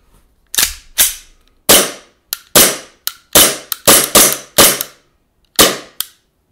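An HK/WE Glock 19 Gen4 gas blowback airsoft pistol fires a string of about a dozen sharp, loud, close shots, each with a quick snapping decay, spaced irregularly with short pauses.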